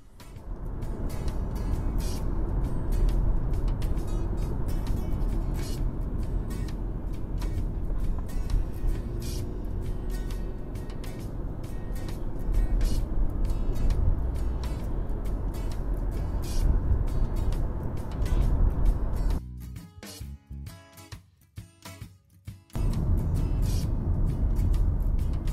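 Recorded inside a car with the windows rolled up by a Yi Mini dash cam, a steady low road rumble and engine drone run throughout. Near the end the sound drops to quiet for a few seconds before the rumble resumes.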